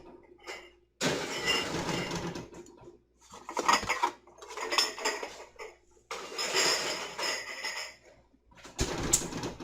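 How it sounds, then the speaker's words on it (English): Prepared glass pickling jars clink and rattle against each other and a metal oven rack as they are loaded into a cold oven, in several loud close bursts separated by brief pauses. "I take my prepared jars and I put them into my cold oven"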